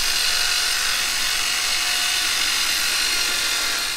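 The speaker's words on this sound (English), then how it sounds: "the next step is to pre-drill the pilot holes for all of the set screws" A power drill whines loudly and steadily, close up, while boring pilot holes for set screws into concrete to secure window frames.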